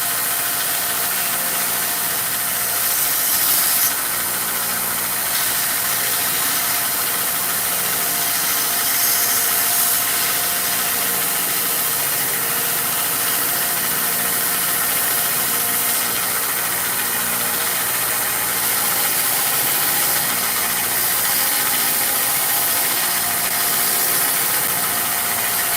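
A belt sander grinds the edges of an axe head in a steady, continuous abrasive whir that holds at an even level throughout with no speech.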